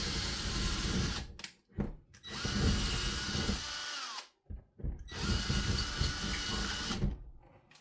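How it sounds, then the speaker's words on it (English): A power drill whirs loudly and steadily, boring a hole through a wall, stopping briefly twice before grinding on again. "I'm gonna drill the hole through this wall."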